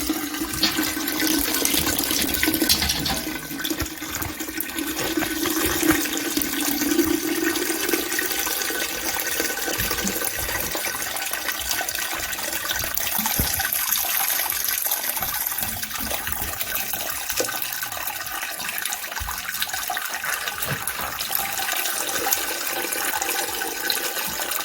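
Homebrew wort pours and trickles out of a grain bag into the pot in a steady, close gush of liquid that continues throughout, with no talk.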